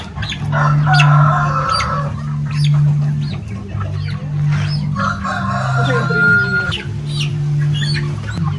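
Roosters crow loudly and repeatedly while hens cluck steadily in the background on a chicken farm where young two-to-three-month-old birds and larger chickens are kept.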